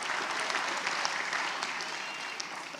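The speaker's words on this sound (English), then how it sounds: "Another round of applause for our graduates here this evening." Graduates at an evening hooding ceremony receive a steady wash of audience applause, fairly faint and distant, with many hands clapping continuously and no voices over it.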